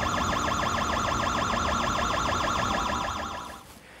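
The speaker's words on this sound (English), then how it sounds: "These will ultimately activate an alarm of some sort or take corrective action." A ship's system alarm sounds: a loud, continuous warbling electronic tone that repeats in fast, even cycles, then fades away in the last half second.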